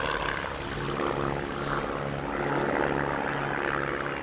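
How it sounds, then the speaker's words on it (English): RV light aircraft running fine-pitch propellers at an airshow, a steady loud propeller-engine drone holding throughout with no speech. "They are now running identical, relatively fine-pitch propellers, which will increase the aerobatic performance of the aircraft."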